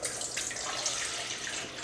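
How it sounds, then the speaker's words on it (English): Water pours steadily from a tap into a container for cupcake batter, a continuous close hiss and splash running through the whole moment with no talk over it. "Of water. Yes. Pour it."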